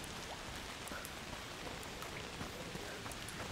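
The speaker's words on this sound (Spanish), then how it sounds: "Oh, cómo me gusta la lluvia," Steady, dense rain pattering down in the video game A Plague Tale: Requiem, a constant hiss of drops with no voices.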